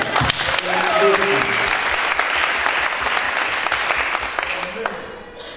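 A church congregation at a revival conference applauds for Jesus, loud sustained clapping filling the hall, with a few voices and cheers mixed in as it slowly fades.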